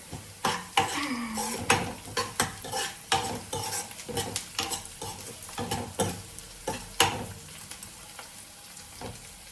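Green chillies frying in a hot pan, with a steady sizzle under repeated clinks and scrapes of a utensil stirring against the metal, close and fairly loud.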